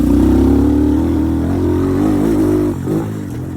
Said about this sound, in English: you just take this bike always on the rev limiter here almost.